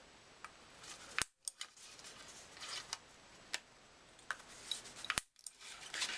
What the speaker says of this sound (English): We're just going to round the corners of our card.